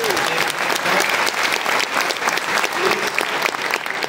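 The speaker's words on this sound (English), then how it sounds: "Another round of applause, please." Loud, sustained audience applause fills a mariachi concert in Napa, California, with dense, steady clapping and no talking throughout.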